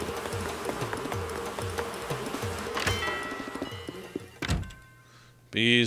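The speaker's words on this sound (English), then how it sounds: "Bees, wasps, same thing." Bees buzz and drone in Animal Crossing: New Horizons over a run of repeated thudding beats, followed by a few sharp knocks and a brief louder burst at the end.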